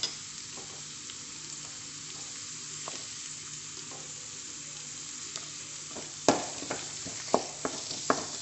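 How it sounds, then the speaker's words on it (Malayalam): Finely chopped onion frying in a pan with crushed garlic, a quiet steady sizzle under a low hum, followed by a run of sharp spatula taps and scrapes toward the end, with no voices. "അതിലേക്ക് ഇതാ ഞാൻ ഒരു സവാള ചെറുതായി അരിഞ്ഞതും കൂടി ചേർത്ത് കൊടുക്കുന്നുണ്ട്"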